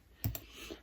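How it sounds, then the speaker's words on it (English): A couple of quick keystrokes on a computer keyboard, close and quiet, two soft clicks followed by a faint tap in an otherwise still room. "now we are going to start typing"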